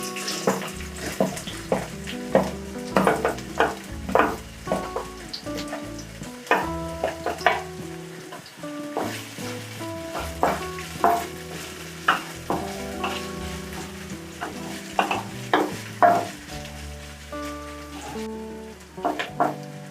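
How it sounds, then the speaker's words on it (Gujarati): Onions fry in plenty of hot oil for spring roll filling, giving a constant close sizzle broken by frequent scraping and clacking stirs of a spatula in the pan, with soft music underneath. "તેલ ગરમ થઈ ગયું છે તો આપણે હવે કાંદા નાખશું"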